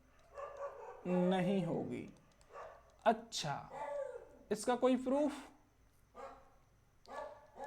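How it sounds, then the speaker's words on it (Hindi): Dogs bark several times nearby during a Hindi maths lesson for the RRB Group D exam, their sharp barks mixed in with and partly overlapping the teacher's speech. "क्योंकि कुत्ते भौंक रहे हैं।"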